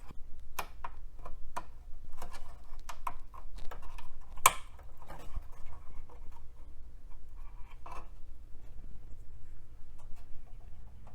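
Plastic RAM modules being pulled from all-plastic slots in a vintage IBM computer, sparse close clicks and snaps with one sharper crack midway, over a quiet low hum and no speech.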